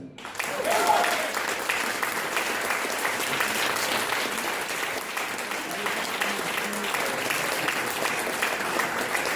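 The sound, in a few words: audience applause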